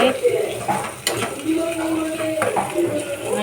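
Garlic and chili paste frying in hot tempering oil, stirred with clinking utensil scrapes against the pan, close and moderately loud with a continuous sizzle throughout.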